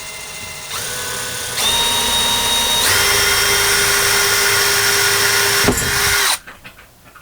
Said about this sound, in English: I'm just going to drill through this side.